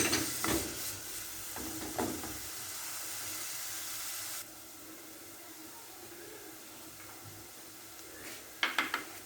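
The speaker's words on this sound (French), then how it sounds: "on va faire revenir l'oignon" Onion sautéing in a little margarine in a pan hisses steadily up close, broken by a few scraping stirs, then drops to a quieter simmer before a final burst of clattering stirs.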